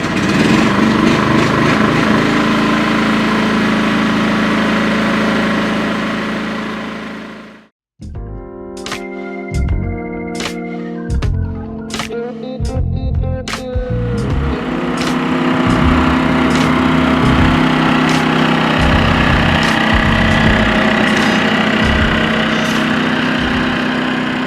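A Firman dual fuel inverter generator running on LP, first a steady close engine drone, then a brief stop and a series of sharp knocks before it settles back into a continuous running hum.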